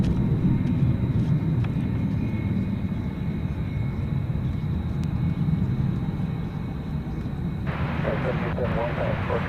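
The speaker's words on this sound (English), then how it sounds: "Coming in for a landing there, American 584 from Tucson," An American Airlines Airbus A321 arriving from Tucson comes in to land at night at DFW Airport, its engines a loud, steady broadband roar that holds throughout, with voices in the background.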